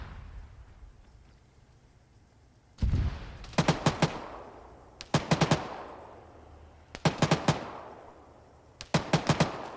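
Vehicle-mounted automatic gunfire in the military game Arma, fired at a smoke screen: four rapid bursts of several loud shots each, spaced a couple of seconds apart, with rumbling echoes between.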